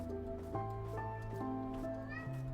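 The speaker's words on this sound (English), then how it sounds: "Cat." A cat meows in the video game Minecraft, with a short mew heard over layered tonal game music and a faint voice.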